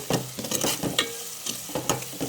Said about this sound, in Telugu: ఆయిల్లో ఫ్రై అవ్వాలి. జింజర్ గార్లిక్ పేస్ట్ ఆనియన్స్ అన్నీ ఫ్రై అవ్వాలి చక్కగా.